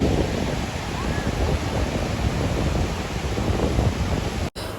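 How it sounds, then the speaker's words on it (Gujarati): Steady roar of ocean surf breaking and washing ashore at Dumas Beach, Surat, broad and continuous with wind noise, ending in a brief cutoff. "આ તમે દરિયાનું રૂપ જોઈ શકો છો અને હું તમને એમનો અવાજ પણ સંભળાવું"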